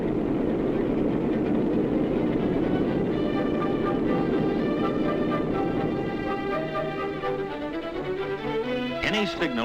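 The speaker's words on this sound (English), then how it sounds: "the train's coming and it can't stop" Train approaching a railroad crossing: a steady low rumble that grows, with whining, tonal wheel squeal and horn-like harmonics rising near the end, loud and continuous.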